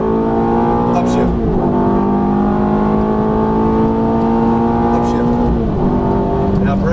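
A Ferrari F430 on a racetrack at Exotics Racing Las Vegas revs hard and climbs in pitch under full throttle, then upshifts twice with a brief dip each time, loud and close, while an instructor talks over it.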